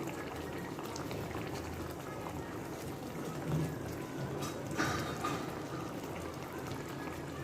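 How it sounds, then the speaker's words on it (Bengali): Mustard hilsa fish curry simmers in an uncovered pan, giving a steady soft bubbling and faint sizzle throughout, close by and quiet. "ঢাকনা ছাড়া এভাবে আমি দুই মিনিট রান্না করে নিব"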